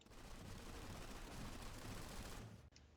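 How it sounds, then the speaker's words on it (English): A weapon is tap-fired in the video game Planetside 2, letting off quick clustered shots in a dense, fairly quiet stretch of gunfire that cuts off abruptly near the end. "now let's try tap firing"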